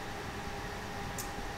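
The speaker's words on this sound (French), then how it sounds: "La clim, c'est une clim portative" A portable air conditioner running indoors, a steady low whirring hum and airy hiss that stays even and fairly quiet, alone without speech.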